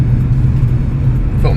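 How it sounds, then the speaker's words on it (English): A BMW car with a DCT gearbox cruises under light throttle, giving a steady, loud low rumble of engine and road noise throughout, with a brief higher-pitched sound at the very end. "I'm not doing anything, I'm just foot on the pedal, steering the car."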